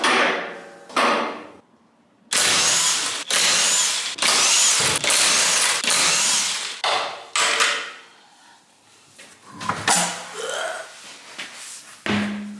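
Metal tools hammer and clank while the rear wheel hub comes off a BMW E90 318d, in a burst of loud, broadband knocks and scrapes with a few quieter pauses and short tonal squeaks between them.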